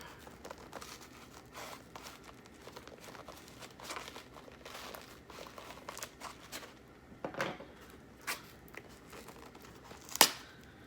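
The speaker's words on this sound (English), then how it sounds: "slice through the tape here" Packing tape being sliced and torn open on a cardboard box holding a razor, with faint crinkling and scraping throughout and a few sharper rips near the end, close and fairly quiet.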